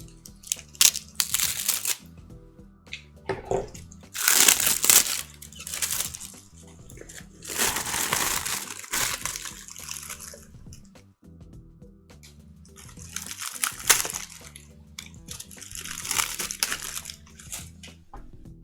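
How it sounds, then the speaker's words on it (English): Plastic shrink wrap on a newly unboxed aquarium light being cut and peeled away, giving several bursts of crinkling and tearing at close range with quieter pauses between them. "It comes in this kind of shrink wrap material that's gonna be a pain to take off. Give me a sec, let me cut this off really quick."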